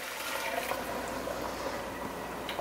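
Three cups of water poured steadily into a soup pot holding potato and other vegetables, a continuous close splashing rush with no voices over it.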